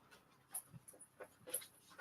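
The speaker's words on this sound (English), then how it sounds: "Bloody dog." A dog panting in quick, soft breaths broken by brief high whimpers, heard close but quiet over a short stretch.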